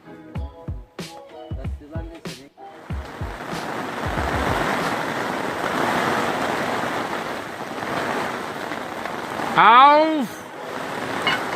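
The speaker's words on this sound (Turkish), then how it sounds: "Dolu başladı arkadaşlar." Hail starting to fall outdoors at a winter camp: after a few brief spoken words and a shout, a dense, steady hissing patter takes over and continues evenly, with a short louder swell near the end.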